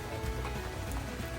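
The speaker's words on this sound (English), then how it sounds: "rain coming down." Rain comes down steadily onto surfaces near a 1963 VW 23-window bus being worked on, a close, dense patter with no speech.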